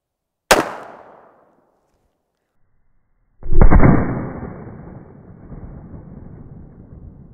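A .45 Colt revolver fires at a ballistic shield. A sharp, loud crack decays quickly, and after a few seconds of silence a second heavy blast booms and trails off into a long rumbling tail.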